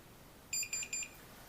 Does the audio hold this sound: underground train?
no